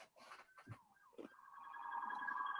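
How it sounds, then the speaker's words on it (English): A wailing emergency siren rises out of faint background noise outdoors in New York and holds a steady, growing tone through the second half. "I heard the sirens outside in New York, where I am."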